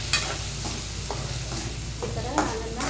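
Brinjal being stir-fried in a pan on low flame gives a continuous gentle sizzle, with a regular series of spatula scrapes and stirs about every half second, close up.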